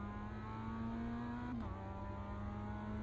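A Mazda MX-5 engine drones steadily as the car leaves the pit lane at Tsukuba circuit, a faint, continuous tone whose pitch dips briefly midway under wind and road noise.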